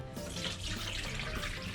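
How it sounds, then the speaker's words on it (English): A lemon juice and dark soy sauce marinade for lamb neck fillet is poured into a bowl, giving a soft, continuous trickling splash that stays faint throughout. "Now we're gonna pour it"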